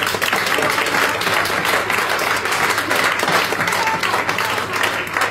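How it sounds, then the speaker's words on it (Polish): An audience applauds poet Aga Januszewicz at a live music and poetry event in Katowice, with steady, dense clapping that holds at an even level for the full stretch. "Wielkie brawa dla Agi."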